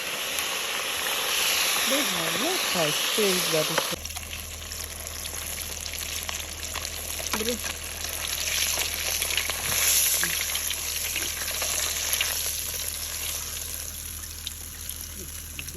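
Fish frying in hot oil in a village outdoor kitchen, steady crackling sizzle that starts abruptly after a few seconds and continues throughout, with people talking nearby and a low background hum.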